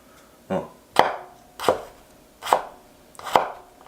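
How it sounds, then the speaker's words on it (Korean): Kitchen knife slicing food on a cutting board with pushing cuts, five distinct crisp chops evenly spaced about a second apart, close and clear. "끝까지 한번 이렇게 밀어서 썰어 보세요"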